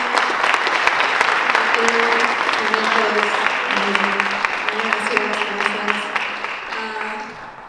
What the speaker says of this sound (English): Can we have another round of applause for both our speakers?